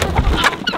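Farm chickens give a brief burst of close clucking, a few quick overlapping calls over rough background noise.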